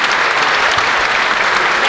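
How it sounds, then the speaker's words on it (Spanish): Sustained applause from a seminar audience after two presenters finish a dairy-chain data analysis talk, dense and steady throughout with no voices over it. "Muchas gracias a ambos, les damos un aplauso."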